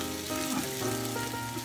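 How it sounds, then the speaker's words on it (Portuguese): Egg-soaked bread frying in a pan for Dutch-style wentelteefjes, a steady close sizzle with soft crackles running throughout and no voices. "O ideal é você passar o ovo e já ligar a frigideira e fritar"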